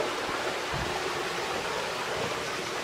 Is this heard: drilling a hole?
no